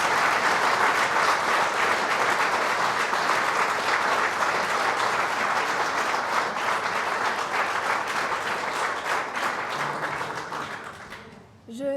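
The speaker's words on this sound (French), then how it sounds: "Vous pouvez applaudir ces jeunes champions, mesdames et messieurs, l'équipe de France des métiers." Loud, sustained applause from a large audience at the official presentation of France's WorldSkills trade skills team, steady for about ten seconds and then fading out.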